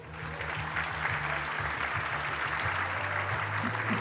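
An audience at a French energy debate breaks into steady, dense applause that holds at an even level throughout, with no voices over it.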